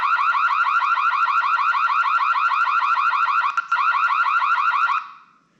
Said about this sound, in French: Donc là, le son de l'alarme,